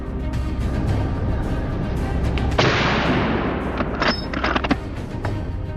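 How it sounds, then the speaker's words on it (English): A single gunshot cracks through a hillside forest during a large-scale wild boar hunt, followed by a sustained rumbling echo, with a few fainter sharp reports a moment later. "From time to time, gunshots cracked through the forest"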